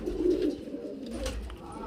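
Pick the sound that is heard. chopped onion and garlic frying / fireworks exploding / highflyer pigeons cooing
highflyer pigeons cooing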